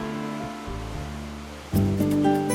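A powerful waterfall at Naeyeonsan in Pohang sends up a steady broadband roar of rushing water beneath a layer of tonal music, which swells louder partway through.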